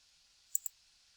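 Two quick, faint clicks of a computer mouse while drawing in CAD software, sharp and close against near silence.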